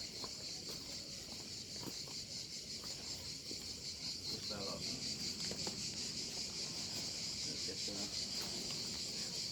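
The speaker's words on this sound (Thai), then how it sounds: "เสียงจักจั่นร้อง" Steady high-pitched drone of cicadas buzzing continuously in Sicily, Italy, fills the background alongside faint outdoor rustles and occasional low knocks.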